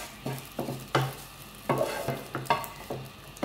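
Egg frying in a pan while being stirred, close, with repeated scraping strokes of the spoon over a soft sizzle, roughly two strokes per second.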